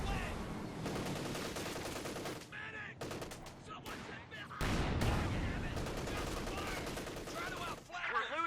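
Sustained .50 cal machine gun fire in a Company of Heroes 2 1v1 match, with steady, dense bursts of rattling shots running through the whole stretch beneath a commentator's ongoing voice.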